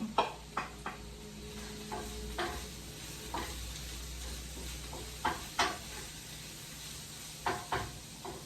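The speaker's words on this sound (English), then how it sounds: "Now we're going to add this to the pan. Our onions are starting to cook up." Onions and garlic cooking in a pan, with a steady low sizzle under repeated stirring scrapes and a few sharp utensil clicks against the pan, close up and with no talking.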